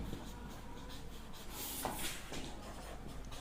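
A pen scratches across paper while geometry working is written out, soft continuous scratching strokes close by at low level.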